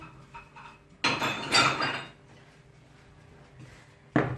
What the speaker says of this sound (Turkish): bulaşığımı kaldırayım